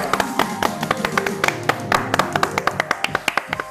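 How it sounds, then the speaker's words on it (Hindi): A small group clapping, sharp hand claps in a quick, fairly regular rhythm, close by and continuing throughout without voices. "तालियां।"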